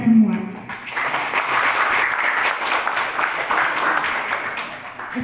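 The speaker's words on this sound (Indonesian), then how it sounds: "Saya minta tepuk tangannya untuk kita semua." A seminar audience in a village hall breaks into sustained applause after a brief voice, many hands clapping evenly at moderate loudness for about five seconds.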